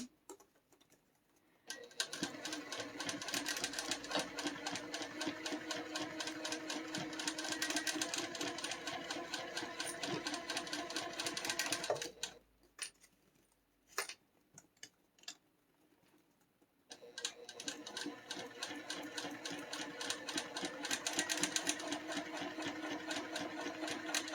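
A sewing machine stitches in two long runs of fast, steady mechanical clatter, close and fairly quiet, separated by a pause with a few clicks and knocks as the fabric is adjusted.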